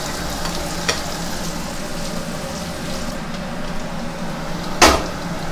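Chopped onion sautéing in hot oil in a pan, frying until soft, with a steady close sizzle and light spatula stirring, and one brief sharp clack of a utensil near the end.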